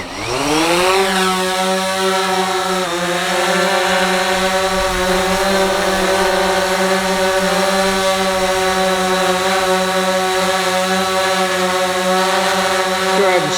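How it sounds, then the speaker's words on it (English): Drone motors spin up for takeoff, launched from the Go4 app with an FT Aviator controller: a loud, rising electric whine settles within a second into a steady, close, buzzing hum that holds throughout. "I'm going to go ahead and hit takeoff on the Go4 app"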